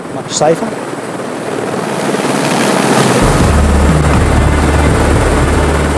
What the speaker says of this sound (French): L'hélicoptère comme outil de jardinage.